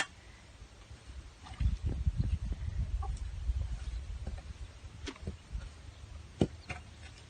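Hens cluck and scratch about in a chicken run, soft scattered clucks and rustling with a few sharper pecks and knocks, fairly quiet and close.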